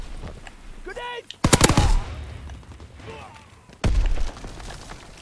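A WW2 video game's gunfire comes in two loud bursts of rapid shots separated by quieter game ambience, with a brief voice-like sound before the first burst.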